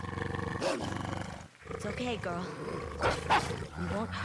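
A wolf in the video game Ghost of Yotei growls and roars in loud, close bursts while people talk calmly over it.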